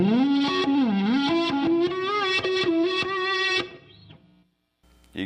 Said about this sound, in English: this next phrase is kind of how the guitar solo begins and spills into the preceding bar because I'm playing it backwards